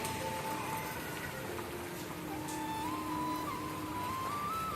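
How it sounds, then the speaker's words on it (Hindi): Dense, steady hiss of heavy rain falling continuously, with a faint high tone drifting in the background. "यहाँ बारिश आ रही है खूब तेज"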